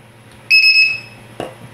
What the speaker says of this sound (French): je mets mon petit alarme aussi